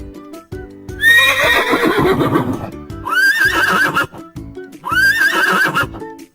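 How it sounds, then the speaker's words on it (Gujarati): A horse whinnies loudly three times in clear, close succession, each neigh rising then trailing off, with short pauses of quieter breathing and movement between calls. "ચાલો આપણે ઘોડાનો વિડીયો જોઈએ"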